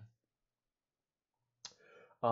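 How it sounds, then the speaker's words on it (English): Keys on a computer keyboard are tapped in a brief cluster of soft, quick clicks after near silence, and a voice starts speaking right after. "What are we typing in?"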